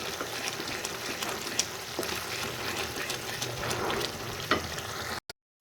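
Masala for chickpea cholay roasting in oil, a dense steady sizzle with occasional spatula scrapes, cutting off abruptly at the end.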